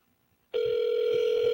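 A telephone tone rings out while a call is being placed, one steady unbroken tone that starts abruptly after a short silence and holds evenly, close and clear.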